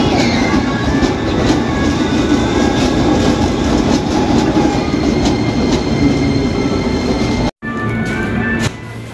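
A KRL commuter electric train pulls into platform 8 at a station, a loud, continuous rumble of rolling cars with faint rail clatter, briefly cut to silence near the end before the steady drone resumes.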